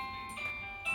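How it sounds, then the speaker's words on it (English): A soft electronic chime rings out in a few short tonal notes, fairly faint, like a doorbell sounding indoors. "That's the doorbell."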